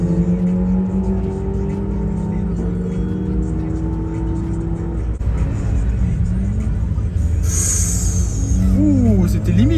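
An Audi RS3 at Spa-Francorchamps approaches with rising engine pitch and rushes past loud and near, tyres and exhaust roaring under excited spectator chatter throughout.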